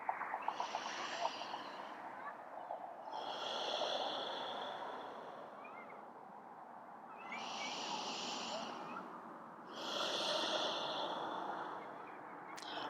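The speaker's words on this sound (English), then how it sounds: "seal it with a couple deep cleansing breaths" Slow, deep cleansing breaths during a yoga practice, four long airy inhales and exhales rising and falling in a calm, even rhythm, close and soft with quiet gaps between.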